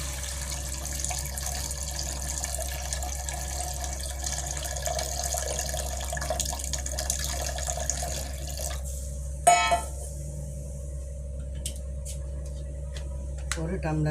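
Water poured into a pan for rava upma made with samba rava in a home kitchen, a steady running pour that fills most of the clip and then stops, followed by quieter kitchen sounds.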